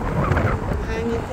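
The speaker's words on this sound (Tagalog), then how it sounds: "mahangin po masyado" Strong outdoor wind buffets the microphone with a steady low rumble and gusty roar through the whole moment, heard while walking along a street toward a bus stop.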